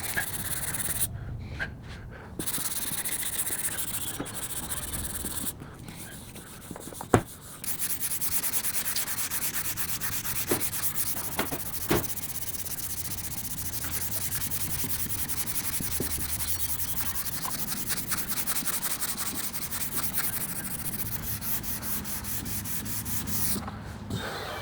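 Block sanding car body primer with 180 grit sandpaper, a continuous close rasping scrub with rhythmic back-and-forth strokes, a short pause, and a couple of faint knocks.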